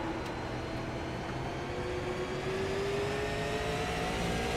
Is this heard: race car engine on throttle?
yes